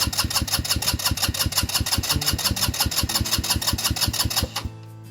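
A Coleman BK 150 dune buggy engine cranks in a fast, even rhythm of repeated chugs for several seconds without catching, then the starter stops abruptly.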